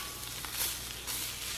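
Cubed beaver loins, green pepper and onions sizzle steadily in a hot pan, a close, continuous crackling hiss with brief louder flare-ups and no voices.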